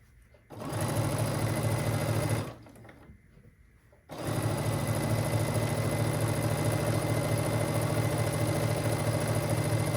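A sewing machine stitches quilt pieces along pinked edges, running in a steady loud mechanical whir that pauses briefly, then resumes for a long continuous run.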